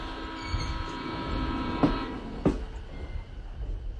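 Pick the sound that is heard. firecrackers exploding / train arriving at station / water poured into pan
train arriving at station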